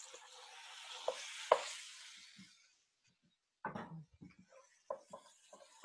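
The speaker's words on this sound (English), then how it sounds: "So this here is ground turkey, and I'm throwing it in the pan." Ground turkey hits a hot frying pan with a loud, close hiss of sizzling that fades over a couple of seconds, followed by scattered clinks and scraping as the meat is moved around.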